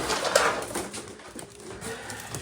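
Domestic pigeons, a flock of white birds kept by a fancier, coo softly at close range in a loft, with rustling and other bird sounds mixed in and no talking.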